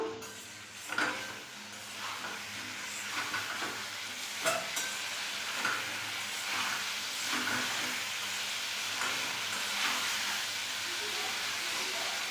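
New potatoes sizzle in a pan as they are sautéed for aloo dum. A steady hiss of frying oil runs throughout, broken by periodic scraping stirs at roughly regular intervals.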